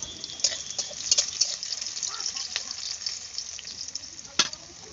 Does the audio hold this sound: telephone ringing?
no